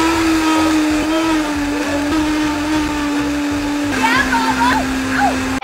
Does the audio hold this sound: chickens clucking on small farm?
no